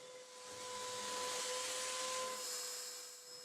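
A Hoover WindTunnel Pet Rewind bagless corded upright vacuum cleaner runs with its crevice tool on the floor, a close airy whoosh with a steady whine that swells in, holds, then eases off toward the end.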